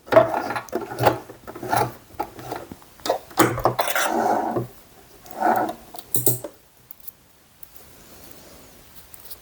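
Sewing machine back stitching across a bag strap to secure a buckle: short bursts of rapid mechanical stitching with brief pauses, close and fairly loud, tapering off into quiet near the end.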